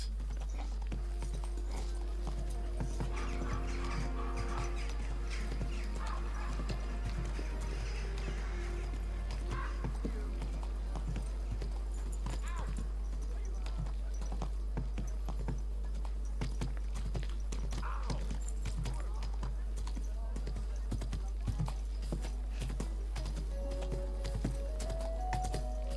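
Hooves clip-clop in an irregular rhythm over a constant low hum in the video game Kingdom Come: Deliverance 2, with scattered clatters and no talking.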